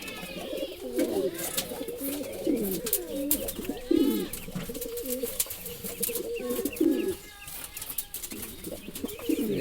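Pigeons, including Giribaz birds that are pairing up, coo in repeated throaty rolls at close range, with soft rustling and wing movement between the calls and no one speaking.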